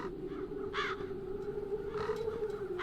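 Crows caw in a dark fantasy role-playing game, with a few distinct harsh calls spaced apart over a low, steady ambient drone, moderately close and fairly quiet overall, with no voices present.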